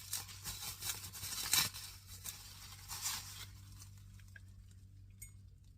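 Close crinkling and rustling as bubble wrap is pulled off a heavy Murano glass dolphin paperweight, busy at first, then tapering to faint handling.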